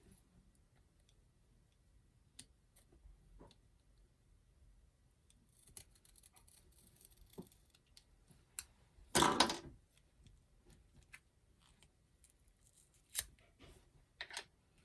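Quiet room with a single crisp snip of scissors opening a paper-craft stamping kit partway through, surrounded by faint ticks and small handling clicks.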